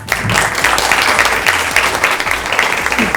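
An audience at a lecture program bursts into loud, continuous clapping that stays full and steady from start to finish, close and energetic.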